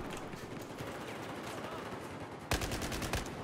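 Gunfire in the Battlefield 4 multiplayer video game, a quick rapid burst of automatic shots that breaks out over steady background noise near the end.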